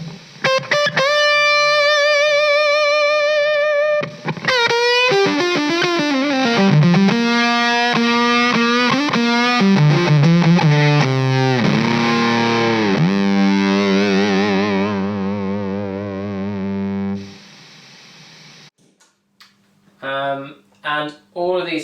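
Electric guitar through a Jext Telez Buzz Tone fuzz pedal, with loud, heavily distorted chords and bending sustained notes ringing continuously, then a brief break and a few quieter choppy stabs at the end.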